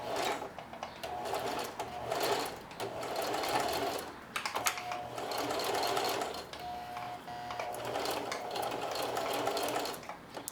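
A sewing machine stitching zigzag bar tacks on apron straps with a rapid, close mechanical chatter in several bursts, briefly pausing between forward and reverse passes.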